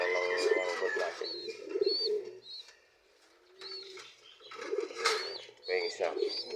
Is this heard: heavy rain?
no